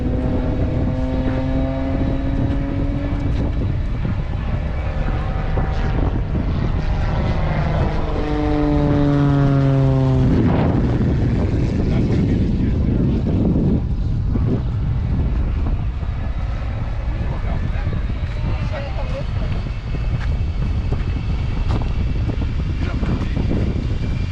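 A stunt plane's propeller engine drones loudly and sweeps in pitch as it passes close while racing a jet truck at the Stuart Airshow, then continues steadily; no clear talking stands out.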